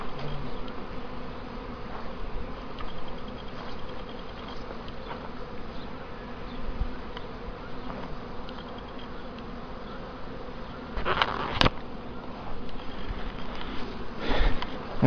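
Honey bees buzz continuously at a beehive, a dense, close droning swarm with a few louder passes near the end.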